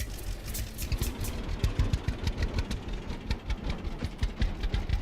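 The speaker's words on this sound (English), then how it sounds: "It's a good thing I brought the tractor" A tractor engine in a homestead farming video game chugs with a steady, pulsing rhythm, loud and close, with no voices over it.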